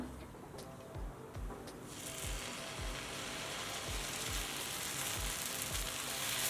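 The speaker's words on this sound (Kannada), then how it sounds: "ಈಗ ದೋಸೆ ಹಾಕೊಳ್ಳೋಣ ಹಂಚು ಕಾಯ್ದಿದೆ ಸ್ವಲ್ಪ ಎಣ್ಣೆ ಸೋರ್ಕೊಳ್ಳೋಣ" Horse gram dosa batter going onto a hot oiled griddle over low flame. A soft sizzle swells into a broad, steady hiss, while rhythmic soft taps continue underneath.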